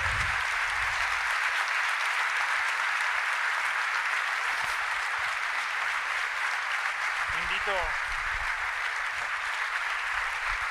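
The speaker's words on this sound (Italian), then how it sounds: "un altro grande applauso al professor Paolo Crepè." An audience applauds a professor at a live event with steady, dense clapping throughout, and a voice is briefly heard over it.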